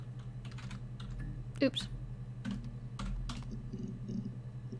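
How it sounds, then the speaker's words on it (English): Quick bursts of computer keyboard typing while playing the game Her Story, light clicky keystrokes over a steady low hum, with a short spoken exclamation partway through. "Let's just type in all the numbers."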